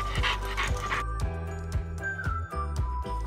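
An American Bulldog pants rapidly and whimpers close up, with steady rhythmic breaths and thin whining tones throughout.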